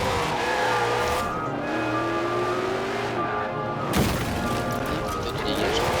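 A revving car engine in Forza Horizon 4 whines and shifts pitch steadily, then a sharp crash hits partway through as the motor keeps droning.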